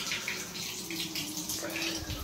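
Water pours steadily from a DIY aquarium top filter, a continuous close splashing gush with no pauses and no voices.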